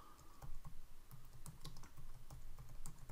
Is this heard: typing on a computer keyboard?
yes